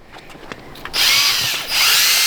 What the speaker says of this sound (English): We've got to go ham sandwich with this drill brush.